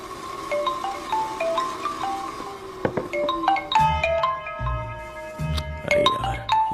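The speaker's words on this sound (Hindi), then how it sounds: "अरे यार ये अभी क्यों फोन लगा रहा है?" A mobile phone rings with an incoming call, a repeating electronic melody of bright tones heard in a Hindi-dubbed South Indian film, moderately loud over a low background score.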